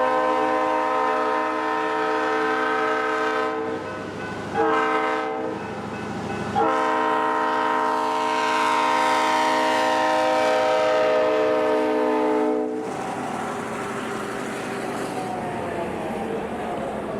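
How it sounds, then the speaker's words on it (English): A train horn blares in long sustained blasts, briefly interrupted, over the heavy rumble of a snowplow train pushing through a snow drift on a railroad, then fades to rolling noise. "Our Plow Extra gets a good run at the drift to bust through and make way for the passenger train"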